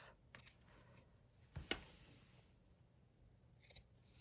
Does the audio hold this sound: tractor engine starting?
no